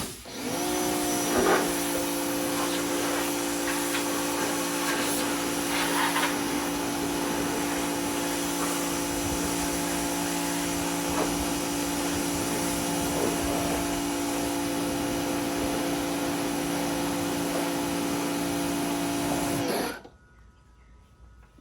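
A KEPMA 2000W electric pressure washer blasts mud off a zero-turn mower. Its loud, steady motor whine and spray hold for about twenty seconds, then cut off abruptly.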